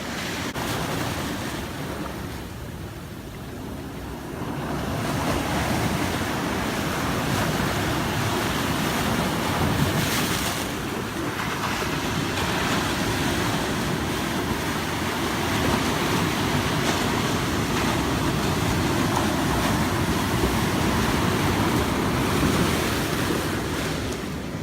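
Pacific Ocean waves wash and splash ashore as the tide comes in, a continuous roaring surf with wind buffeting the microphone throughout.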